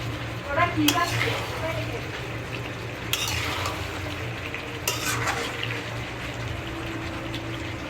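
Meat frying in oil in a pan and being stirred, with a steady low sizzle and a few sharp scraping clicks of the spoon against the pan under background noise.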